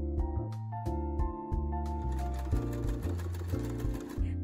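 Home sewing machine stitching the side seams of a dress sleeve, running in quick bursts with brief pauses, a close rhythmic mechanical whir with needle thumps.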